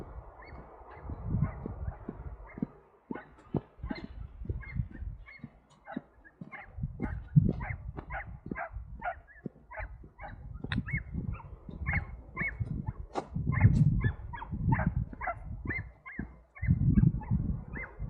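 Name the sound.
excited dog barking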